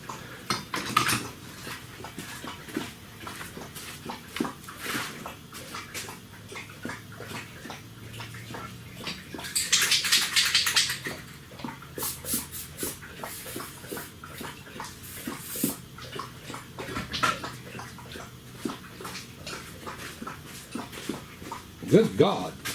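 A dog laps water from a bowl in a garage during a 2004 Ford 5.4L timing chain job, with rapid wet lapping and clinks of the bowl under intermittent talk.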